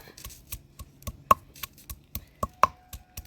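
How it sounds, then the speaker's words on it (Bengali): Garlic cloves being crushed for chicken curry, a series of sharp, irregular knocks and thuds, close and distinct, with a few faint chirps in the background. "রসুনগুলো থেতে করে নিব"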